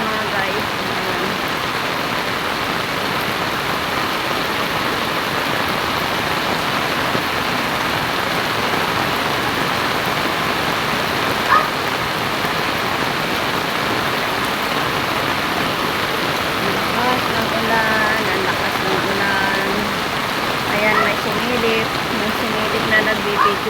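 Heavy rain pours outside a house in a dense, constant hiss, steady and enveloping for the whole stretch, with faint speech now and then beneath it.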